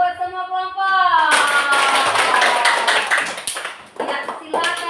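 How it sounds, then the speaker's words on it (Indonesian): Classroom of elementary school students applauding their groups, a brief voice followed by a dense, sustained burst of clapping that fades slightly toward the end. "Ya, tepuk tangan buat semua kelompok."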